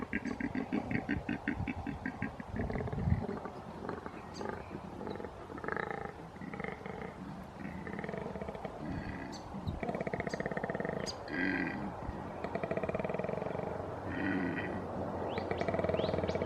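Two koalas bellow during a mating ritual, giving deep, rasping, snoring grunts in repeated rhythmic bursts, heard at a distance and fairly faint over an outdoor background with occasional bird chirps.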